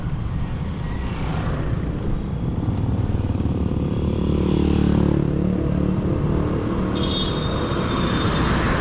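A motorcycle carrying three riders cruises steadily along the road, its engine droning loud and close with rushing wind and road noise, rising slightly midway, and no talking.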